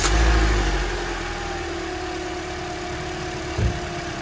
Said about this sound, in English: Now I'm gonna start my Corolla.